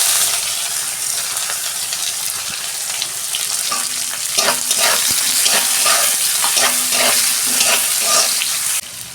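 Onion frying in oil after whole cumin and other tempering spices, a steady close sizzle that runs unbroken throughout, with occasional scrapes and stirring clicks from a spoon in the pan.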